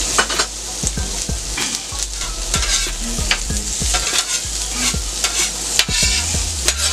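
Onions and butter sizzle and fry on a hot steel grill, a steady crackling hiss with repeated scraping and stirring clatter from a utensil against the metal, close and loud with no talk.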